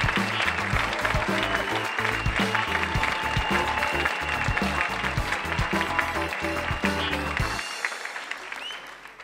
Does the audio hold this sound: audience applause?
yes